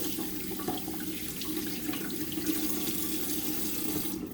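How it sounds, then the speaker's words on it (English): Kitchen tap running as hands are rinsed at a sink during biscuit baking, a steady close splash of flowing water that continues evenly without talk. "I'm going to rinse my hands."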